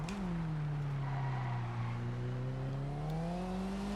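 A track-focused Alpine car engine heard from the cockpit with windows down in Test Drive Unlimited, a loud steady droning tone that dips slightly then climbs smoothly in pitch as the car accelerates.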